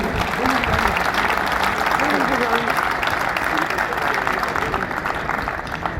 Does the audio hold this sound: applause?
yes